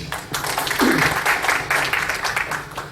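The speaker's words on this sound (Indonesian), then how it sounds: "Tepuk tangan buat beliau." An indoor audience at a futsal discussion event gives a short burst of clapping, dense and fairly loud for a few seconds, with a voice briefly audible over it.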